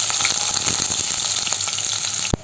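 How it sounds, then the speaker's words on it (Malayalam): Sliced shallots sizzle in hot coconut oil for a prawn curry, a dense, steady, close frying hiss with faint crackles throughout and a brief sharp knock at the end. "ഇനി ഈ വെളിച്ചെണ്ണയിലേക്ക് അരിഞ്ഞു വെച്ചിരിക്കുന്ന ചെറിയ ഉള്ളി ചേർത്ത് കൊടുക്കാം"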